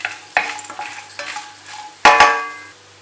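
Peanuts fry in hot oil for Tamil-style mango rice while a spoon stirs them. Soft sizzling runs under scattered scraping clinks against the pan, and a louder double scrape comes near the end.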